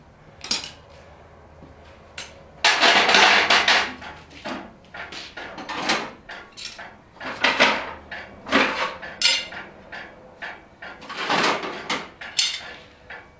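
Sharp metallic clinks and taps in irregular bursts, close by, as a farrier's hammer strikes and wrings off horseshoe nails, with no talking.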